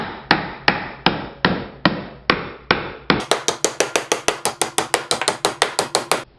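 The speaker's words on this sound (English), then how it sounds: "Then we hammer those in" Nails are hammered into a wooden bluebird nest box: about eight slow, sharp blows, then a quick run of lighter taps as each nail is driven home, loud and close with nothing else heard.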